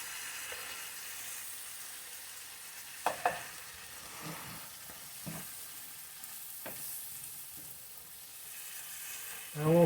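Chop suey vegetables with undrained bean sprouts, their juice and canned green peas softly sizzling in a pan, with a few stirring scrapes and clicks; quiet and close.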